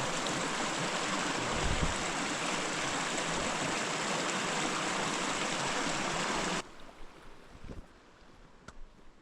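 A mountain creek rushing beneath a footbridge in Rocky Mountain National Park, a steady broadband water hiss that cuts off abruptly near the end, leaving quiet outdoor ambience.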